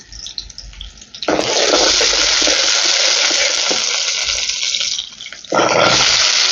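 Ginger sautéing in oil in a pan for a potato masala to go with dosa: a loud, hissing sizzle that flares up, runs steadily, dips briefly, then surges again.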